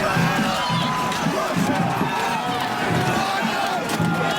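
A mob crowd at the U.S. Capitol shouts and roars in a dense, continuous wall of voices, loud and steady throughout with rhythmic chanting swells.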